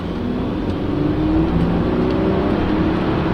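Smooth engine note from an Audi A8 D2 with the 6.0 W12, accelerating steadily from inside the cabin, a continuous low hum that swells slightly with no talk.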